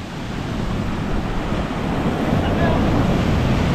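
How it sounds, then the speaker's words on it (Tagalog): Loud, continuous roar of ocean surf with heavy wind rumble, waves rushing constantly close by. "ang lakas talaga ng alon"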